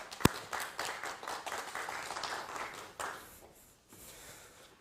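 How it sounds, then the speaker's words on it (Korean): Audience applause at an education-office briefing on a green smart future school project, a dense patter of clapping that starts with a sharp clap, holds steady, then thins and tapers off toward the end. "박수 부탁드리겠습니다."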